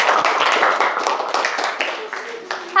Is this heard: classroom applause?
yes